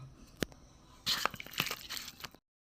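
Grated ginger and garlic mixed with spices by hand: faint, brief crunchy squelches and crackles, with one sharp tap followed by a denser wet patch of mashing that stops abruptly.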